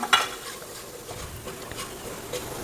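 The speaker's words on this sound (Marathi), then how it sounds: "आलं लसूण पेस्ट चांगली परतवून द्यायची तेलात" Ginger garlic paste fries in hot oil with a soft, continuous sizzle, and a quick metallic scrape comes right at the start. The sound is short and close, with no voices.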